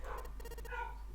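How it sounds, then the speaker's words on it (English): A dog barks a few times in the distance, faint and muffled, over a low steady hum. "I can hear my dog losing it"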